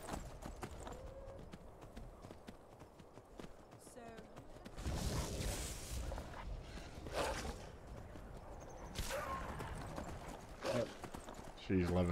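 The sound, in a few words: horse hooves clip-clop in video game Skyrim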